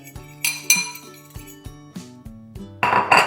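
A metal fork clinks and scrapes against a bowl while mixing dry ingredients for grilled cheese and tater tots. Sharp, rhythmic taps come one after another, nearby, with no talk.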